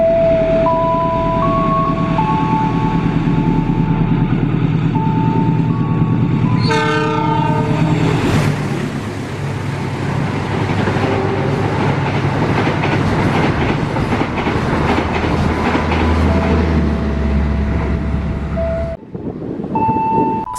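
A long train passes Cibitung station. Warning horns sound first, then a loud, sustained rumble and rhythmic clickety-clack of the passing wagons roll on, followed by another short horn near the end.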